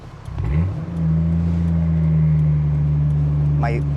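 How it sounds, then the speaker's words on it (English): A 1987 Toyota Supra Mk3 with a turbocharged inline-6 revs up close by, the engine climbing into a steady droning hum with a rising turbo whistle, and a brief higher chirp near the end. "My absolute favorite sound is the turbo spool on this car."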